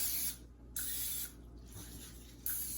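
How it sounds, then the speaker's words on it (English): Cooking spray hisses from an aerosol can into a muffin tin for mini lasagna cups, in two to three short, close bursts separated by brief pauses. "Today I'm gonna use, again, I'm cutting a corner, my cooking spray."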